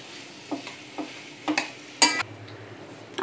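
Mashed potatoes are stirred into vegetables in a pan for a fasting batata vada filling, giving a few separate scraping and tapping strokes of a spoon against the pan over a quiet background.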